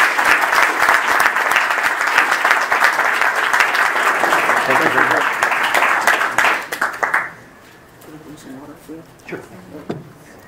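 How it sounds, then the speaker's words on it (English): An audience at an economics lecture on income inequality applauds to welcome the speaker. The loud, sustained clapping fills the room for about seven seconds, then breaks off into a few scattered claps and faint room noise. "please welcome in giving a big round of applause to Dr."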